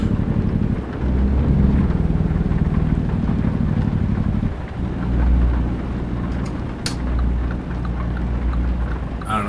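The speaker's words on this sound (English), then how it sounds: "we got caught out in the rain again" Rain and rolling thunder in American Truck Simulator, a steady wash of rainfall under a deep, sustained rumble that swells and fades, with a truck engine droning low throughout.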